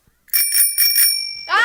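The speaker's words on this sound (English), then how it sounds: "Jason came up with the idea of using a tricycle bell." A tricycle bell rung to stand in for a telephone ring, giving a few bright metallic rings with a sustained ringing tone and a rapid trill at the end.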